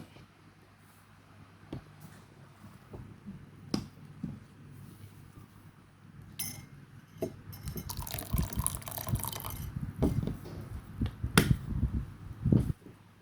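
Coffee being whipped into foam in a glass with hot water added, giving soft irregular liquid clinks and splashy stirring that grow busier and louder toward the end, with no voices.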